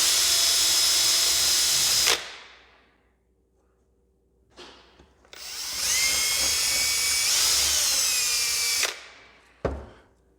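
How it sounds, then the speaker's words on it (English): A power drill whines at high speed in two long bursts separated by a pause, enlarging holes in speaker grills, with a brief spin-up and a final short burst at the end. "And then I'm going to drill."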